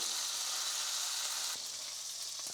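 A thick steak sears in a hot pan with its fat cap rendering, giving a steady, loud close sizzle and spatter throughout, dipping slightly about halfway with a few small pops and stirring clicks.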